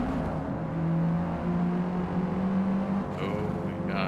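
Race car engine droning steadily with a sustained tone in Forza Motorsport on a road course like Watkins Glen, Lime Rock or Laguna Seca, a brief whirring burst toward the end, no talk over it.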